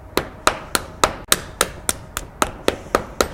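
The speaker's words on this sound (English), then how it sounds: "just take a hammer and knock on the frontal bone and break it into small pieces" A hammer knocks on the frontal bone of a human skull during a dissection, breaking it into small pieces: about a dozen sharp, evenly spaced taps in steady rhythm, close and clear with no talking.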